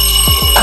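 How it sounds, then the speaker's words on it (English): An air fryer's timer alarm sounding as a loud, steady electronic beep tone, close and continuous through the brief moment, with no talking over it. "That's the wrong alarm"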